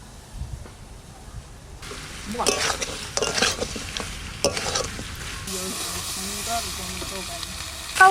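Village red rooster meat being stir-fried in a pot for kosha, loud stirring scrapes over a hissing sizzle, growing busier midway, then a calmer simmer with faint sounds in the background.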